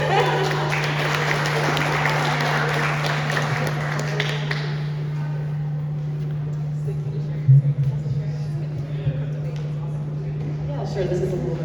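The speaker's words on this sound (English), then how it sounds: "please give a round of applause to Patel." Applause from the audience at a Crypto Babes meetup in Toronto rises at the start, then thins out and fades after a few seconds over a steady electrical hum, with talking and scattered taps following.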